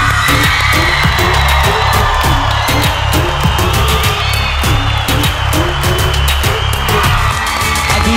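A crowd of fans screams and cheers continuously for a celebrity arriving at a Turkish TV event, loud and dense with scattered shrieks and bangs throughout.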